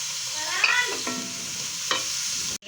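Cabbage and carrot stir-fried in a pan for samosa filling: a steady sizzle with a couple of stirring scrapes, close and fairly loud, with no voices.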